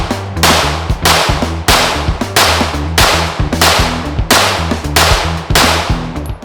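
A pistol fitted with a Lone Wolf Arms Alphawolf slide and adjustable trigger fires ten 124-grain PMC Bronze rounds, loud sharp cracks in a steady, evenly spaced string with brief ringing between shots.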